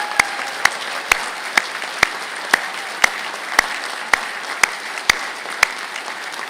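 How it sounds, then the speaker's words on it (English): At a university graduation ceremony, an audience claps for construction management graduates: a steady bed of clapping marked by sharp, evenly spaced loud claps, roughly two per second, standing out close by. "well-deserved round of applause."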